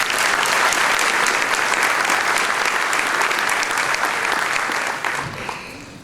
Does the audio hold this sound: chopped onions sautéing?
no